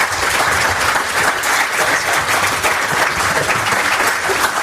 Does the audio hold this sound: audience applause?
yes